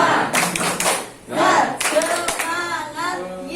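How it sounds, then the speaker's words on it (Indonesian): A classroom of students claps out a rhythmic spirit cheer in sharp bursts that alternate with chanted voices, close and loud, with a short lull partway through. "Jadi tepuk nih, masing-masing lagi ya. Tepuk semangat."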